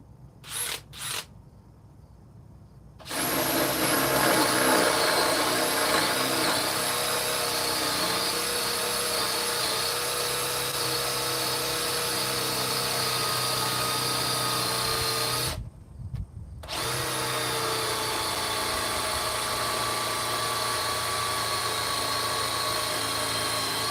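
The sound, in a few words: DeWalt cordless drill running at speed 2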